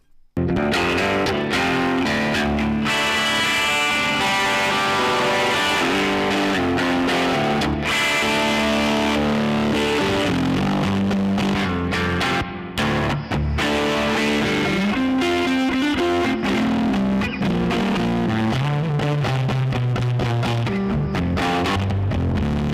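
An electric guitar played through a DIY Rangemaster treble booster pedal into a Victory DP40 amplifier, a bright, driven, distorted tone with continuous chords and riffs, loud and close, with no talking.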